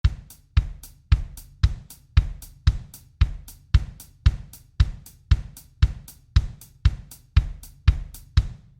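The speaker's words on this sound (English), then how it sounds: "we're moving that right hand, those hits, to the hi-hat" A steady drum beat repeats evenly, with crisp hi-hat strokes riding on every hit and kick and snare punching beneath them.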